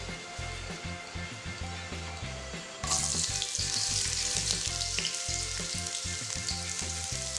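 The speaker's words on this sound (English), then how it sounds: "Fry the sliced shallots till it's golden brown." Sliced shallots frying in 250 ml of hot oil over medium heat, a close, steady sizzle that jumps to a louder, fuller hiss a few seconds in and stays strong, accompanied by background music and no speech.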